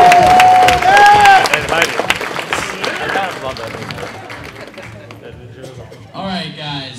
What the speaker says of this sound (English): I want to give all the cosplayers a round of applause, please.